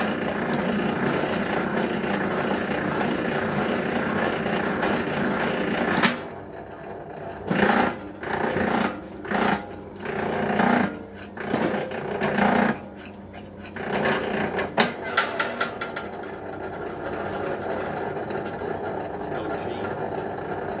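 A cable stripping machine working through a length of copper armoured cable in a workshop, a continuous whirring mechanical grind that cuts off partway, then resumes in short bursts and a final stretch.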